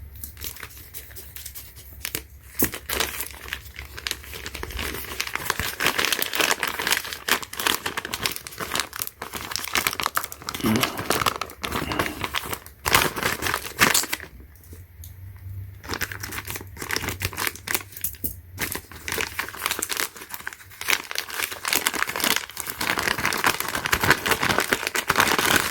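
Thin plastic packaging bag crinkling and rustling steadily while a cheap paintless dent repair tool kit is unpacked, continuous close handling noise with brief pauses.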